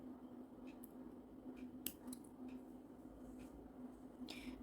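Small scissors snipping a beading thread tail during beadwork on a necklace, a few faint close clicks and snips over a quiet room hum, no talk.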